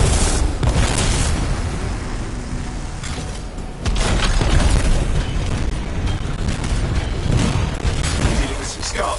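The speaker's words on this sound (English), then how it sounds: "It'll be a contained explosion." A contained explosion of canisters in the video game Anthem gives dense, loud booming and rumbling blasts, continuous and close, with a sharper surge partway through.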